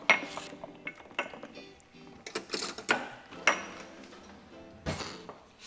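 Spoons and dishes clink and clatter in a home kitchen in scattered, sharp metallic and ceramic knocks, fairly close with quiet pauses between them.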